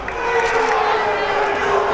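A basketball crowd at a women's NJCAA Region XV tournament quarter-final groans and jeers in a sustained, fairly loud wash of voices after a traveling call, filling the arena steadily throughout.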